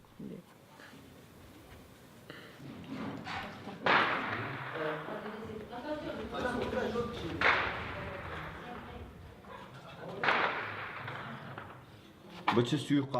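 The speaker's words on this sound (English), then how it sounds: "Those are sniper shots" Sniper rifle shots ring out near the Sinjar Mountains where Kurdish fighters are battling: about four sharp, loud cracks spaced a few seconds apart, each with an echoing tail, over a steady background rumble.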